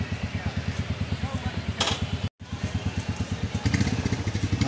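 A motorcycle engine idles close by at the start of a ride from New Delhi toward Ladakh, its steady rapid thumping pulse running throughout, briefly cut out once and slightly louder near the end.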